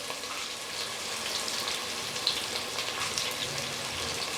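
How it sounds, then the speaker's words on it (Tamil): Sliced onions sautéing with salt in a pan for a country-chicken biryani, a continuous bright crackling sizzle with fine popping, steady and close throughout, no talking. "சேர்த்துட்டு இந்த வெங்காயம் நல்லா ப்ரௌனிஷாக வர வரைக்கும் இதை நல்லா வதக்கி விட்டுக்கலாம்"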